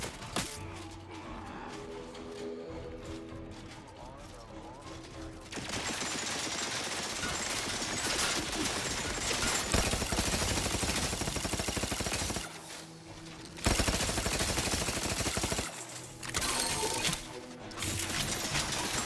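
Rapid automatic electric gunfire from an auto-hacking weapon in a first-person shooter, sustained bursts loud and dense with brief pauses between volleys, no talking.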